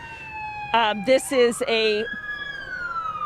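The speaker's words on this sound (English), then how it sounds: "I'm hearing more lights and sirens, more Orange County Sheriff's deputies showing up here at this scene" An Orange County Sheriff's patrol car siren wails with a slow rising tone at a scene, partly under a man's close, brief speech.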